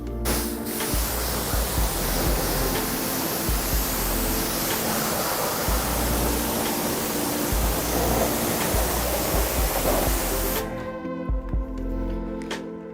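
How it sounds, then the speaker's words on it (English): Pressurized water spray rinsing grime off a dirty car wheel and tire after a non-acid wheel and tire cleaner, a loud close continuous hiss that runs for about ten seconds and then cuts off abruptly. "And now you're going to want to rinse everything off."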